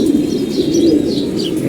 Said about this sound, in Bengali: একটা নর কবুতর।